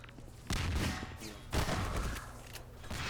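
Rapid gunfire from a Half-Quake 2v2 tournament match rattles on steadily, with heavier bursts roughly every second over a dense, loud background of game noise.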